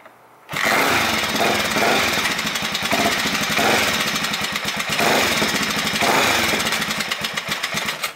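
A 1983 Honda XR500R single-cylinder dirt bike engine starts abruptly and idles loud and close, a steady rapid thumping chug with some rasp that holds for several seconds and then slightly fades.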